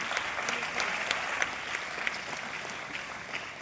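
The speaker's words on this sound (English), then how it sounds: "I want to give a big round of applause to the families of the students" Audience applause for the families of students at a medical college white coat ceremony in Guntur, a steady wash of many hands clapping from a large crowd, moderately loud and continuous throughout.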